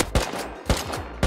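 Gunfire in the survival video game Rust during a clan raid: three sharp, heavy shots at an even pace about half a second apart over steady game ambience.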